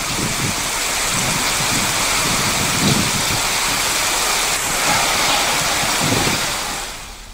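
Heavy rain pours steadily during a thunderstorm in Dantewada, India, a dense hiss of drops hitting surfaces with low rumbles swelling a few times underneath before fading at the end.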